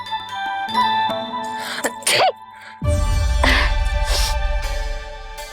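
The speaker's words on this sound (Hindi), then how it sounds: "अभी छींक आई ना," A sneeze from a household scene in a Hindi devotional drama, a short sharp burst near the middle of the clip, set among music and background tones.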